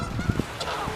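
Geese honking near a canal lock on a windy morning, a few quick nasal honks over a rushing, wind-blown background, fairly close and moderately loud.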